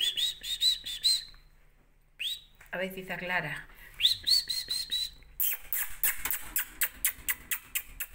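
Pet birds chirp, whistle and squawk while being fed, with high repeated calls and a burst of harsh squawks, loud and close; someone speaks softly between the calls.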